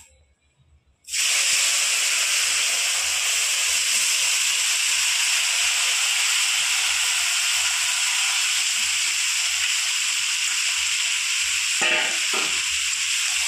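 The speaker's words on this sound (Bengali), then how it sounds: "আমার কড়াইয়ের তেল গরম হয়ে গেছে, এবার আমি মাছটা ঢেলে দেবো।" Small fish coated with turmeric and spices are dropped into hot oil in a wok. A loud sizzle bursts up after a quiet second and then holds as a strong, even hiss, with a brief clatter near the end.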